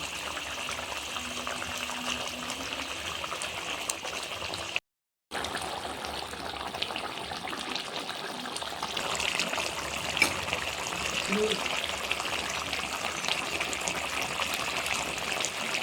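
Fish curry with potato and brinjal bubbling in a pot, a steady watery rush and gurgle holding at an even level throughout, with a brief cut of silence near the start.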